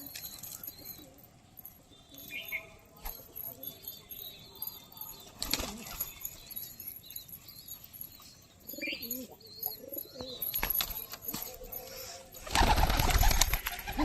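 Young pigeons coo softly in a loft, with occasional chirps and brief bursts of wing flapping. A loud rush of flapping wings comes near the end.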